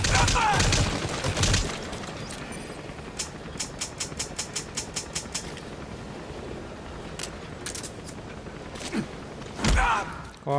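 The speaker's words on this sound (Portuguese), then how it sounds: "Posso usar essa metralhadora aqui, ó." Rapid bursts of machine gun fire in Metal Gear Solid V: The Phantom Pain, several short volleys of sharp repeated shots at moderate level, with a voice talking between them.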